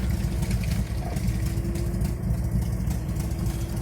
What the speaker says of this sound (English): Idling.